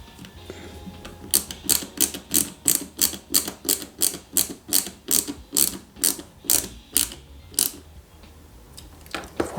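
A screwdriver drives a BP screw into the dashboard part of a 1/8-scale Pontiac Firebird KITT model kit, producing a regular series of close, ratcheting clicks about twice per second.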